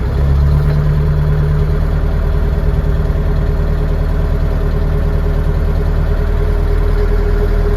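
Scout 404 mini-tractor engine idling at about 1000 rpm, a loud steady low rumble with a constant drone, close by and continuous throughout.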